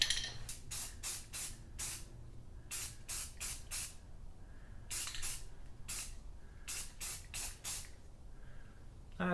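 Spray gun coating the quarter panel of a Subaru WRX, heard as a rhythmic series of sharp, hissing bursts, each about a quarter second long, in clusters of three to five passes with short pauses between.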